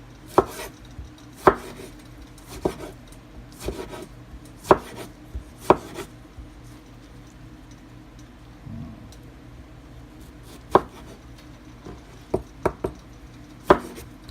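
Vegetables for pico de gallo being chopped with a knife on a cutting board: sharp, close strikes landing irregularly, some spaced apart and some in quick clusters, with no talking.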